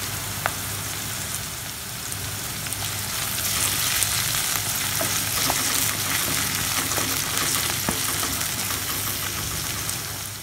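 Curry leaves fry in hot oil while egg parotta is cooked, a loud, dense, continuous crackling sizzle with scattered sharp pops that holds steady throughout.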